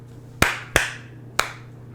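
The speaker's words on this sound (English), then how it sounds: "Clap twice." Sharp, close hand claps made to sync a recording, three distinct hits in about a second and a half, the first two quick together and the third after a pause, in a quiet room.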